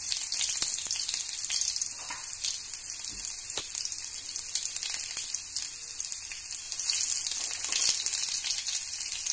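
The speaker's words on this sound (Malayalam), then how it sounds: "രണ്ട് ഉള്ളി അരിഞ്ഞത് ഇട്ട് കൊടുക്കാം ഉള്ളിയൊക്കെ കടുക് ഇറക്കുന്നതിൽ അരിഞ്ഞിടുന്നത് ടേസ്റ്റാണ്" Chopped shallots sizzle steadily in a mustard seed tempering for a Kerala pineapple pachadi, a continuous close crackle of hot oil with scattered pops and no talking.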